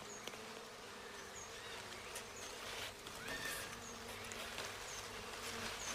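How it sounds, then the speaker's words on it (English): Wild bees swarm at their nest in an Indian monsoon forest, a dense continuous buzzing that holds steady throughout with no voices present. "a wild bee's nest."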